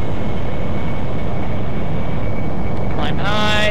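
Aircraft engine in a combat flight game, a loud steady broadband roar and drone that holds throughout, with a rising whine and tonal harmonics appearing near the end as throttle shifts; a voice talks over it.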